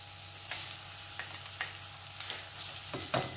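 A medium onion, chopped, fries in two tablespoons of ghee for dal tadka, crackling with a close, bright sizzle and several sharp scrapes of stirring.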